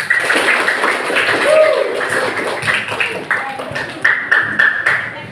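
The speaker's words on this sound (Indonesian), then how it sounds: "tepuk tangan buat Kirana" A classroom of students gives a short round of uneven clapping for a classmate. The applause is moderately loud and scattered, with a few stronger claps toward the end and voices mixed in.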